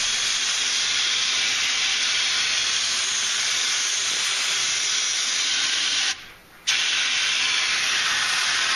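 A Paasche airbrush sprays bottom-fed premixed paint onto fishing lures with a wide spray, a continuous close hiss that holds steady for several seconds, briefly cuts out, then resumes.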